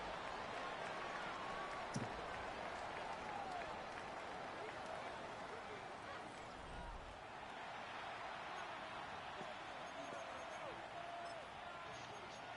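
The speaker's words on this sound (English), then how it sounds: "The crowd making their presence felt." Stadium crowd noise from an American football video game against the Browns, a steady dense roar of cheering filling the whole stretch at even loudness, with brief thuds of play near the start.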